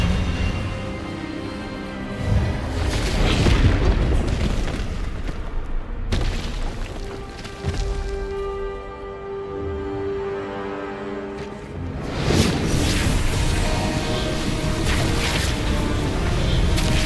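Expelliarmus spell effect in Hogwarts Legacy: loud, dense magical bursts and booming impacts over a swelling musical score, with a brief drop around the middle before the blast surges again.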